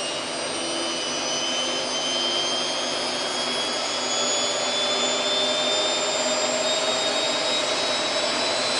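Samsung WF8804RPA washing machine in service mode spins its drum up toward 400 rpm, a steady, loud whirring drone with a high whine that holds unchanged throughout, no voices over it.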